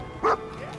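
The dog companion in the video game Fallout 4 gives a single short, sharp bark close by against quiet game background.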